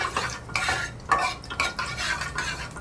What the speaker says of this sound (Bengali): জিরেটা ফোড়ন দিয়ে একটু নেড়ে চেড়ে দিচ্ছি।